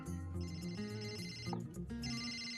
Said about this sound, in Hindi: अंपायर साहब, घर से फोन है।